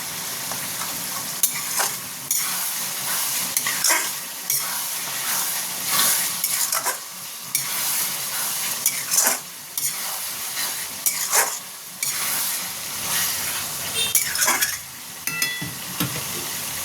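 Chicken keema is stir-fried in a pan, a loud ongoing sizzle broken by repeated scraping strokes of a spatula and occasional metallic knocks, no talking.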